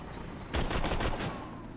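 Burst of rapid gunfire from a weapon in the Borderlands 2 video game, a quick run of several shots over about a second, moderately loud against quiet game background.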